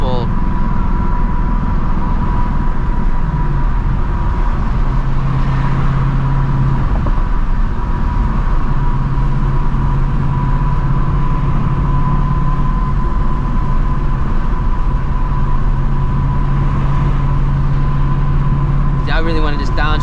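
A 2024 Ford Mustang GT with a manual gearbox and loud exhaust drives late at night, its engine droning in a steady low rumble throughout, with a person talking over it.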